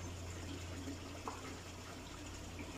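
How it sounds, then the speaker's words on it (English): An aquaponics water pump runs inside a sump tank, giving a faint, steady low hum with a soft wash of moving water, unbroken and without voices. "This is the water pump inside the sub tank."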